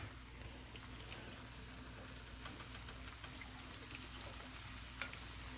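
Soy sauce is stirred into fried rice with shrimp, chicken, egg and vegetables, giving a faint, steady sizzle with small crackles and a low hum in the background, and no talk.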